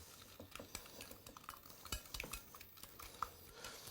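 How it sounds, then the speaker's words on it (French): Batter is being stirred by hand in a bowl for a strawberry and chocolate slice, with soft, irregular scraping and clinking strokes close by, quiet and alone. "Mélangez bien encore."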